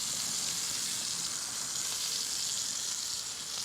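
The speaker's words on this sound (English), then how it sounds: "What we're trying to do is just like to sear it on both sides" Foie gras searing in a hot pan gives off a continuous, even hiss of sizzling fat, moderately loud and steady throughout, with no voices.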